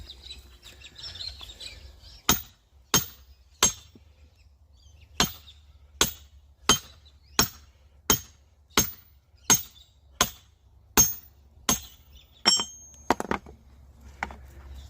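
A Gransfors Bruk splitting maul strikes a block of tough Australian hardwood in about a dozen sharp, heavy cracks, spaced fairly evenly and close by, with a quick double hit near the end and no talking.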